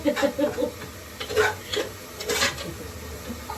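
Ginger and garlic paste sautés in a pan for a chicken biryani, a soft sizzle with intermittent bursts of stirring and light scraping of a spoon against the pan.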